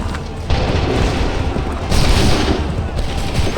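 Musket volleys from massed soldiers in the video game Assassin's Creed III, loud booming fusillades crackling in several overlapping bursts, close and dense.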